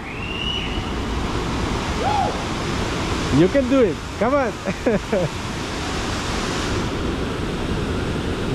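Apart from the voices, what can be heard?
rushing water of the La Fortuna river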